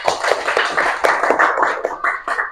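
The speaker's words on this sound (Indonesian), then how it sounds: "marilah kita berikan tepuk tangan kepada kawan kita yang maju tadi" Classmates applaud a student after a classroom presentation, a steady patter of many hands clapping together for a couple of seconds, moderately loud and fairly close.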